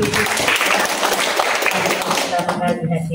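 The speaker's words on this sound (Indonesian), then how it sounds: "Kita beri tepuk tangan dulu." A church congregation claps together after a welcome, a short burst of mixed applause with voices talking over it and the clapping thinning toward the end.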